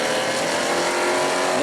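A sportsman race car at speed on a qualifying lap at New Smyrna, with a steady, loud engine drone that holds at an even pitch throughout, close and sustained without a break.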